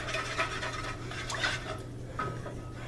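Egg yolks being stirred into milk in a bowl with a utensil, giving a steady close scraping and clinking of metal against the bowl that runs the whole time with no talking.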